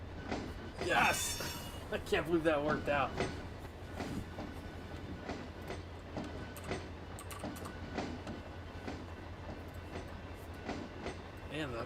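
Freight train boxcars being shoved in the Run 8 video game clank and rumble with couplers banging, under excited talking and laughter, with steady rolling noise and intermittent clicks.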